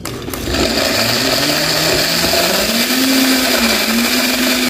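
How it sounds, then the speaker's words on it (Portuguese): A kitchen blender crushes ice and mango for a frozen daiquiri, its motor whirring steadily and loud, the pitch climbing slightly as the mixture smooths out, with no talking. "Vou bater tudo isso no nosso liquidificador"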